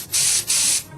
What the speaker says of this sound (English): It is now time to spray upon the jeans so that it gets the right look.